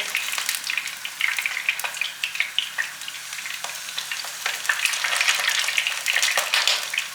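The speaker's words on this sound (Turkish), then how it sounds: "Gerçekten aşırı patlıyor bu karnıyarık kızartma işleri." Eggplant fries in oil, sizzling steadily with frequent sharp pops and crackles bursting through the continuous hiss.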